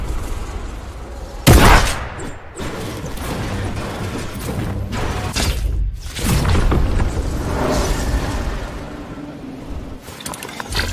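Combat shotgun blasts in Fortnite, a few loud, punchy shots spaced apart, the first one especially strong, set against ongoing game noise with no talking.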